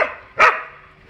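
A single short, loud dog bark rings out close by, aimed at a stray cat, followed by quiet.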